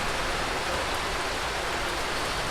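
Heavy rain pours down steadily during a fishing trip, a dense, constant hiss filling the whole stretch with no breaks and no voices.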